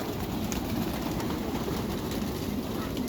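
Pigeons coo softly at a farm where native chickens are kept, a low murmuring drone running continuously under steady background noise with no clear breaks.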